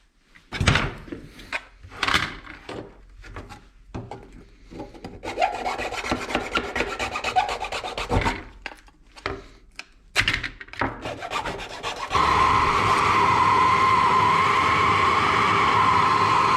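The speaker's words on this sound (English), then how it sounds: "I'm going to finish that up with a file." Hand file rasping on a metal part for an amp meter, a run of uneven scraping strokes with pauses, then a steady loud grinding rasp toward the end, close by.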